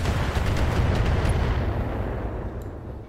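Volley of missiles fired by a mech in the BattleTech game: a loud rumbling burst of launches and blasts that holds for about a second, then fades to a dull decaying roar.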